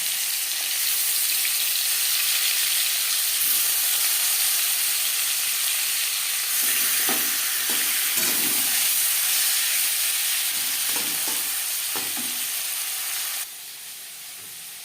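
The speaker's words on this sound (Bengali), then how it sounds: "3 চামচ সরষের তেল গরম করে নেওয়ার পর দিয়ে দিলাম ম্যারিনেট করে রাখা মাছ।" Marinated fish sizzles steadily in about three spoons of hot mustard oil, a loud, even hiss running throughout with a few sharper spits and crackles in the middle, nearby and alone.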